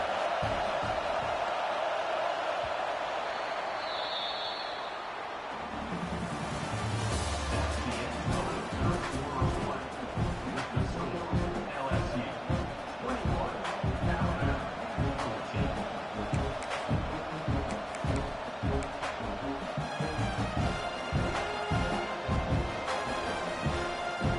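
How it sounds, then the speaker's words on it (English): Stadium crowd at an LSU at Alabama football game roaring on third down, a sustained swelling wall of noise with rhythmic chanting and a commentator talking over it. "The Tide crowd rolling noise down on the Saban field on third down"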